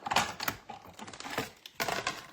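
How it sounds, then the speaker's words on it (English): Cardstock being run through a die-cut machine with a scalloped craft die, giving a series of close, sharp clicking and crunching bursts over about two seconds. "And so we're just going to die cut that."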